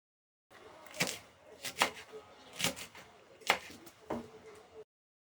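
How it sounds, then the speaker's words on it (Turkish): A knife chops green peppers on a cutting board for Uşak tarhana. About six distinct cuts land at an uneven pace and are heard up close against a quiet background. "Yeşil biberlerimi doğruyorum."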